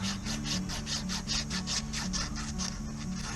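Corroded metal door pins are scrubbed clean with quick rhythmic back-and-forth abrasive strokes, close up, about three strokes per second, over a steady low hum.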